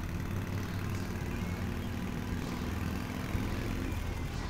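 A car engine idles in The Path video game, a low, steady rumble held at an even level throughout, with no voices over it.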